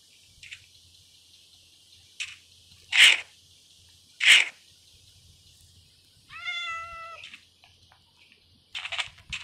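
A cat in a Minecraft game gives one drawn-out, wavering meow partway through, clear and close, amid several short breathy bursts and faint background hum.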